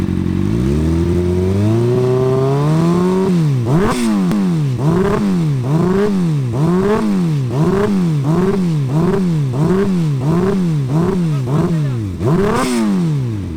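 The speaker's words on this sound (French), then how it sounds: "la moto marche très mal" A motorcycle engine runs rough, flooded with too much fuel: after a rising rev it settles into an uneven, lumpy rhythm of repeated surging pulses, close and loud, with a couple of sharp pops.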